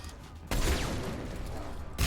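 Sustained gunfire in the video game Mass Effect 3, a dense loud burst of rapid shots after a brief quieter lead-in.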